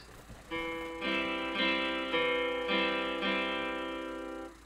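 Soft, fairly quiet guitar plays a low bass note followed by three-string chord strums on the second and third beats in an even waltz-like pattern, ringing clearly.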